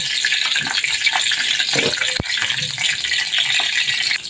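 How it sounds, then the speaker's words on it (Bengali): Whole garam masala spices fry in hot oil with a dense, even sizzle and bubbling crackle, with a single sharp clink partway through, close and fairly loud. "আমি তেলের মধ্যে একটু আস্ত গরম মশলা দিয়ে দিয়েছি। এখন একটু ভেজে নিব।"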